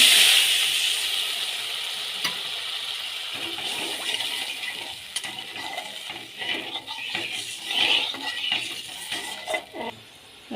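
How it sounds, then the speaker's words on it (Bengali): Water poured into frying mustard masala for a katla fish curry, starting with a loud hiss that settles into steady bubbling sizzle with clinks and stirring. "এবার জল দিয়ে দিচ্ছি"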